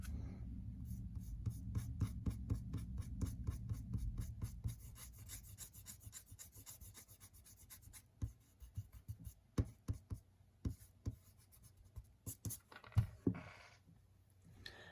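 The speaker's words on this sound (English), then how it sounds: "So you're gonna lightly erase this entire thing, but make sure you can still see the general shape of each petal." A pencil sketch of peony petals being lightly erased on watercolor paper, with dense rapid rubbing strokes at first, then sparser, separate scrubs and taps, close and fairly quiet.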